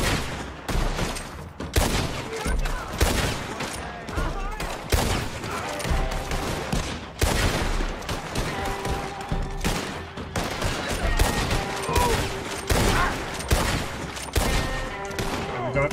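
Dense gunfire fills a Red Dead Online battle at Valentine, with rapid overlapping shots and bursts that continue without a break, some near and loud, others farther off, and faint voices underneath.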